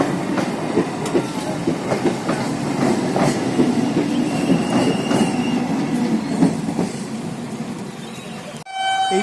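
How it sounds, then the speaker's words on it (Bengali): A 12-coach passenger train on the Krishnanagar to Shantipur line passes a railway gate nearby, with loud rumbling, rhythmic clickety-clack and wheel squeal before it suddenly drops away. "একটি 12 বগির ট্রেন, এটি কৃষ্ণনগর থেকে শান্তিপুর ডাইরেক্ট প্রতিদিন সকালবেলায় দুবার যাতায়াত করে থাকে।"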